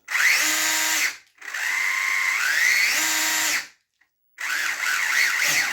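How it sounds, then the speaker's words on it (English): A Fly slot car's small electric motor and gears whine loudly, amplified by the body, in two long runs with a short silent gap between them, pitch rising and falling as the revs change. "Now just have a little listen to this with the body on, which amplifies the noise from"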